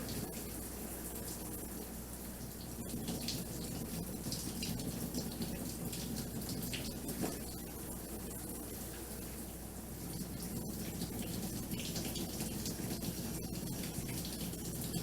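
Cold water running steadily from a tap at a lodge, a faint, continuous hiss of flowing water with small occasional clicks.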